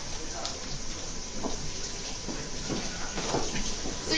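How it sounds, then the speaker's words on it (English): Water runs steadily from a kitchen tap while hands are rinsed under it, a constant close wash with a few soft splashy bursts. "Do you mind if I wash my hands?"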